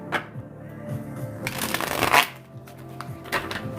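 Tarot cards shuffled by hand in repeated soft riffling bursts, close and moderately loud, with a brief louder flurry midway and no talking.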